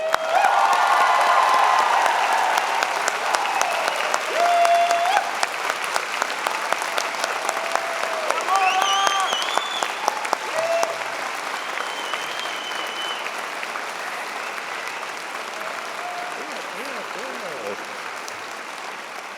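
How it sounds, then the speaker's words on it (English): A graduation convocation audience breaks into loud, sustained applause with some cheering, gradually thinning over twenty seconds while faint voices and tones sound beneath it. "My next statement is to give everybody a big round of applause"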